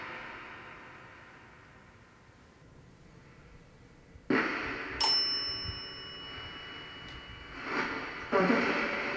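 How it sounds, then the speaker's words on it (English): A quiet room hum, then a sharp metallic ding with a ringing tone that lingers, followed by a few clanks and knocks. "Did I hear a bell out there, or did I hear a bell come through?"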